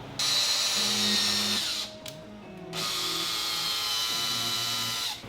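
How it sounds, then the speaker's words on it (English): A power drill whirs in two steady bursts separated by a short pause, loud and close, drilling a hole in a Toyota Tacoma dashboard for a mount, with no talking. "Now I can drill the second hole."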